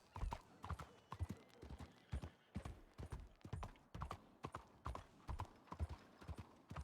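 Game horse hooves clip-clop in a steady, brisk walking rhythm while riding, close and even, with faint voices talking underneath.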